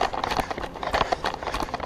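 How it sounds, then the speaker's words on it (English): Running shoes crunching on a gravel bush track, with quick, steady footfalls scraping and rustling close up, heard on their own. "So there's the crunch of the gravel under your shoes."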